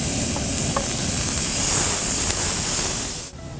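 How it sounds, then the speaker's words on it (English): Chopped onions sizzle in melted bacon grease in a pot for chili, a loud, dense, steady frying hiss close up that drops off abruptly near the end. "our bacon grease is just about melted, so into that, I'm going in with 2 onions that I chopped up"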